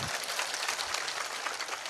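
A steady wash of crowd applause for MP Rajkumar at a public gathering, dense and continuous clapping from a large audience, moderately distant and even in level throughout.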